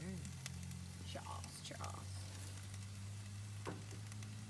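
Food sizzles in bacon drippings on a patio grill, a steady close frying hiss running throughout while someone talks over it and a low hum sits underneath.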